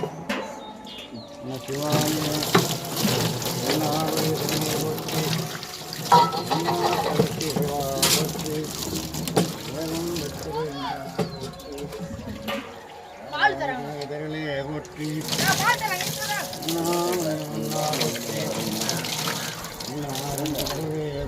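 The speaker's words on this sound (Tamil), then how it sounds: "தண்ணி ஊற்றலாமா" Water is poured and splashes during a temple ritual at an Arudra Darshanam festival, running steadily under continuous talk and chanting voices nearby.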